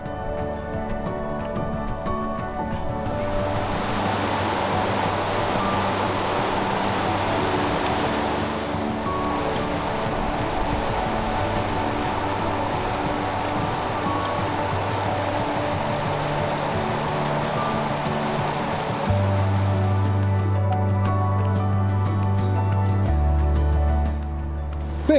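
A mountain river rushes past the bank where hikers pause during a high-altitude trek, a broad steady roar of flowing water with some wind buffeting the microphone, continuous and close throughout.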